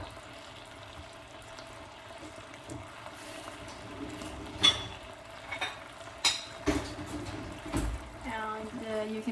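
Korean BBQ beef and enoki mushrooms sizzle in a pan in a home kitchen, a steady low hiss broken by sharp clinks and scrapes as the food is stirred and turned.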